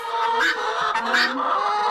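Chickens cluck and murmur continuously up close inside a house during hard winter weather, a busy overlapping chatter of soft calls with a few louder squawks.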